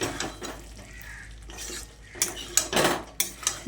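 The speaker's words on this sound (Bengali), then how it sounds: "তারপর ভালো করে নেড়েচেড়ে মিশিয়ে নিচ্ছি।" A spoon scrapes and clinks against a pan while a pumpkin dish with garam masala and ghee is stirred, several close metallic knocks and scrapes in irregular bursts, fairly quiet, with no speech.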